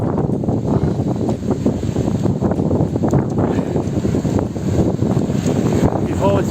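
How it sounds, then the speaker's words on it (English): Strong wind gusting outdoors in Spain near Gibraltar ahead of a storm, roaring and buffeting the microphone with a dense, steady rush throughout. "Wow, it's getting really windy."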